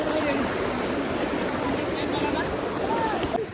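The main waterfall at Sitakund in heavy rain, a loud, dense, continuous roar of falling water heard from close by, with faint voices barely breaking through.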